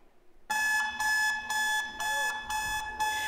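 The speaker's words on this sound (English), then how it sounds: "if you've been setting digital alarm clocks for a long time, this may be one of the first sounds that you're used to hearing" Digital alarm clock beeping loudly and close, in rapid repeating bursts of electronic tones with short gaps between each burst.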